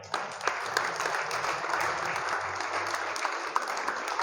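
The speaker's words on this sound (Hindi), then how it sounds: "और जोरदार तालियां भाई।" Enthusiastic applause from the audience at a turban-honoring ceremony in a village old-age home, a dense sustained clatter of many hands, fairly steady with a few sharper claps standing out.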